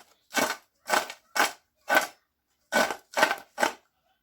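Crispy homemade French fries tossed with salt in a bowl, seven short crunchy rustling shakes in an uneven rhythm, close and clear with silence between.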